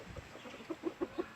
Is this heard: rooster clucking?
yes